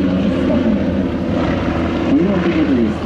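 Propeller aircraft, an Antonov An-2 biplane and an Aero AT-3 with a 1000-horsepower engine, fly a formation display at an airshow, a loud continuous engine drone with shifting pitch as they pass, heard alone.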